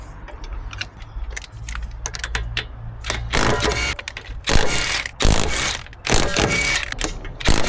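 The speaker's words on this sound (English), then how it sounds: "As you can see, I'm using a impact gun for this." An impact gun removes wheel nuts from a Nissan X-Trail T32 during a brake job, with several loud, rattling bursts of a few seconds each, separated by short mechanical clicks and handling noise.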